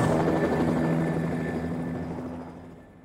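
A helicopter takes off at a North Pole ice airport, roaring loudly with a steady rotor drone, then slowly fades as it moves away.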